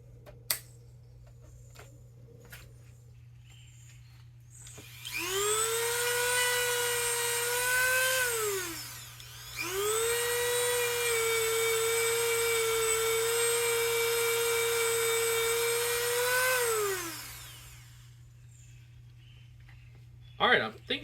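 Dremel rotary tool with a wire wheel stripping powder coat from an LT250R quad hub, a loud high steady whine in two long runs of several seconds each, spinning up and down at the ends with a short pause between.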